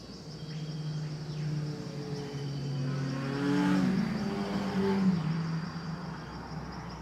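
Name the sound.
motorbike engine passing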